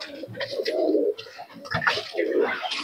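Pigeons at a pigeon market in Murshidabad coo close by in soft, throaty, rolling calls, repeated a few times over a short stretch.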